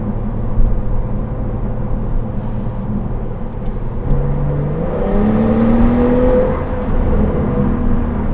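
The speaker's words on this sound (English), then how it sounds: "It has that gurgly sports exhaust." A Porsche 911 Carrera S with a gurgly sports exhaust accelerates, its engine tone rising steadily and fairly loud, with no talking.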